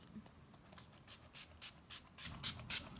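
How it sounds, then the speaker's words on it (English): Soft, quiet bursts of rose-scented face mist sprayed close by, a run of brief airy hisses in irregular rhythm with faint rustling between them. "So we're gonna spray my face."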